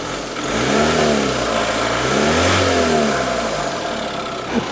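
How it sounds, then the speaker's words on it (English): A broken-down car's engine revs repeatedly while drawing air through the fuel, rising and falling in loud, close, rough swells over a steady idle, with no talk. "Can't see it, but it's drawing air through the fuel. Hear that rev?"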